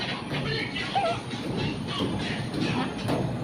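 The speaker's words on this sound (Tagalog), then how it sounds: "Ayan na ang tren." A train rumbles by with a steady broadband roar and faint rail clatter, fairly close, continuous for the whole stretch without talking.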